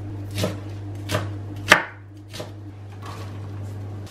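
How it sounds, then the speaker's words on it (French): A knife chops onion on a board, giving about six separate close thuds spaced unevenly, one sharper than the rest, over a low steady hum, with no talk. "La première étape c'est d'émincer l'oignon, comme ça je vais pouvoir le cuire"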